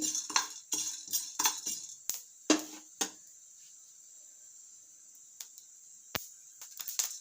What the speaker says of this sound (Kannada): ನೋಡಿ ಇವಾಗ ಸಿಡಿಯುತ್ತೆ ಅಂತ ಮುಚ್ಚಳ ಮುಗಿಸ್ತಿದ್ದೀನಿ